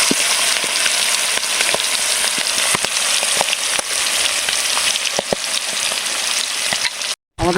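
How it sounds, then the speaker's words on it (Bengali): Lotte (Bombay duck) fish frying in hot oil, a loud, dense, continuous sizzle with scattered pops and crackles up close, briefly cutting out near the end. "আমাদের এই লোটে মাছ ভাজা হয়ে গেছে"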